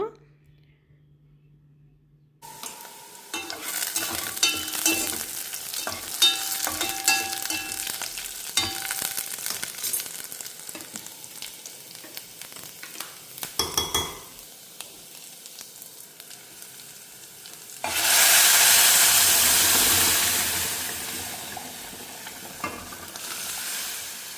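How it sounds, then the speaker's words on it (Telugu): Onions, dried red chillies and spices frying in ghee in a pan with sizzling and stirring, rising to a loud, steady crackle near the end, with some clattering of utensils along the way. "ఇవి మూడు వేసేసి ఫ్రై చేస్తూ ఉన్నాను"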